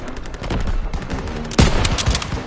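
Intense World War II combat in Call of Duty: WWII, with sustained machine-gun bursts and rapid rifle shots rattling nonstop, loud and close, and a heavy blast punching through midway.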